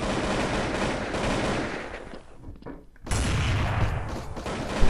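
Gunfire in the FirstBlood shooter game comes as rapid automatic bursts and shots, loud and dense, with a brief lull before a heavy barrage resumes.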